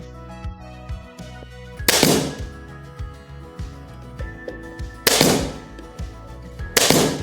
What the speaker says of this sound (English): Then I add some nails with my nail gun.